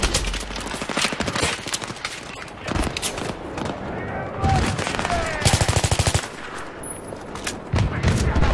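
Rifle bursts in Battlefield 3, with rapid rattling volleys near and loud that break off between strings of shots, mixed with footsteps and movement, while players talk over the action.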